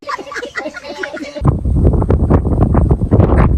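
Strong gusting wind at Sungkuk buffets the microphone and rushes through trees, a loud, steady roar that starts abruptly partway through, with faint talk before it.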